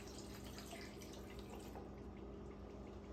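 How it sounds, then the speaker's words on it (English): Water heated to 110 degrees is poured over butter while making soft dinner rolls, giving a faint, steady liquid trickle and splash that runs for a few seconds. "we're going to pour it in here over the butter and this side"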